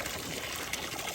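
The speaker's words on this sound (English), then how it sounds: "Those are not raindrops. That is our sprinkler going right now." Lawn sprinkler spraying water across a pasture, a brief steady hiss and patter of spray, close and fairly loud, with no talking.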